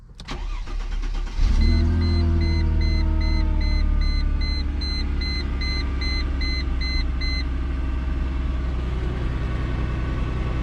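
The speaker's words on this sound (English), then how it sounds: "First cold start after that cold snap we had. Let's see if it's making any new noises." A Mercedes SLK 32 fires up from a cold start on a frosty day, catching with a sharp burst and then settling into a steady, loud, rumbling idle as a few electronic chimes beep.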